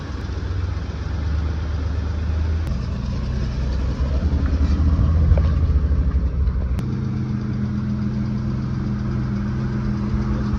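BMW M50 inline-six idling steadily in an E34 Touring, a healthy-running engine with an even low rumble, loud and close, shifting slightly in tone partway through.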